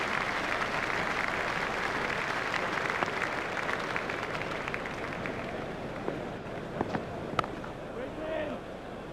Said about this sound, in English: Crowd are standing to applaud him.